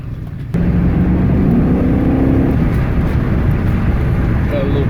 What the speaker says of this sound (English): Driving an older HEMI.